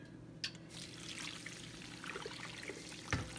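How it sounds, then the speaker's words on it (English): Water is poured into a crock pot of bone broth, a faint, steady trickle under a low background hiss with a few light clinks. "And then we will add our water."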